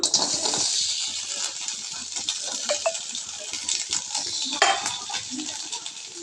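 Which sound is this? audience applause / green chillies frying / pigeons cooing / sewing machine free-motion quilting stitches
green chillies frying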